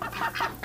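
A duck on a farm gives a short, close, nasal honking call, two or three quick pulses within under a second.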